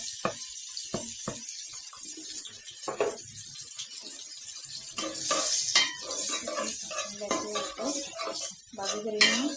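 Sliced onion and a tomato go into hot oil with cardamom and cinnamon in a wok for chicken curry. Sparse utensil clinks and scraping give way to a louder, steady sizzle with stirring.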